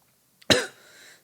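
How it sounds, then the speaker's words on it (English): A single sharp cough, close and loud, bursting suddenly and trailing into a brief breathy exhale. "sorry for the cough"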